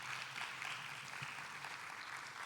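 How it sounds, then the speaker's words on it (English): Conference attendees at an opening plenary applaud award-winning enterprises with a sustained, even patter of many hands. The clapping is fairly faint and distant, with no talk over it. "Let's give them another round of applause, please."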